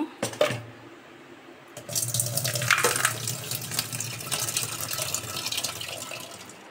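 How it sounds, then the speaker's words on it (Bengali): Lentils for dal are rinsed under a running kitchen tap, a couple of brief clatters followed by a steady rush of splashing water that continues to the end. "এখানে ডাল ধুয়ে নিব"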